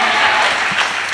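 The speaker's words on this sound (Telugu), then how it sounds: "చప్పట్లు కొడుతూ గట్టిగా ఆమేన్ చెప్దాం." A church congregation claps together during a pastor's sermon at a prayer meeting, a dense, loud burst of steady applause filling the room.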